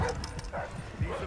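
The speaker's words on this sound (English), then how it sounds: "Oh, and there's another dog." Dogs in the stealth shooter Blacklist give short yips and barks, a few quick bursts at moderate distance, fairly faint within a muffled game mix with no clear speech.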